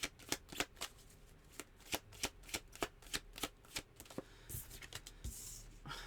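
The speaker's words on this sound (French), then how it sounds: "Allez, 3 cartes du tarot, s'il vous plaît." Tarot cards being shuffled, a run of quick, close riffling snaps in uneven bursts, soft overall, ending in a brief rustle.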